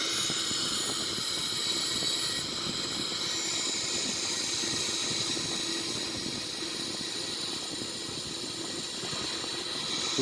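Boeing 737-800 jet engines in a flight simulator game hold a steady, even roar with broad hiss while the airliner climbs over snowy Switzerland under manual control, constant throughout with no voices.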